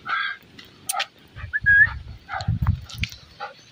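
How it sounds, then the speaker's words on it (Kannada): A dark-coated golden retriever makes short whimpers and soft yips, with a brief high whine in the middle, close by and without talk. "ಸೊ ಗೋಲ್ಡನ್ ರಿಟ್ರೀವರ್, ಇದು ಫುಲ್ಲು ಡಾರ್ಕ್ ಕಲರ್ ರಿಟ್ರೀವರ್"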